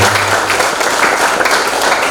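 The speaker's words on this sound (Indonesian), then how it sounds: "Beri aplaus untuk Bapak Oke Prihandoko." An audience claps and applauds for a manager at a leadership training session, a dense, steady wash of clapping that holds at full level throughout.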